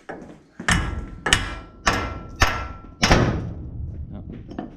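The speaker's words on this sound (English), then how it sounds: "We're gonna go ahead and tap on that ball joint and hopefully that'll let that go." A hammer striking the ball joint of a 1967-72 Chevrolet C10 lower control arm, five loud, sharp metallic blows spaced about half a second to a second apart, close by.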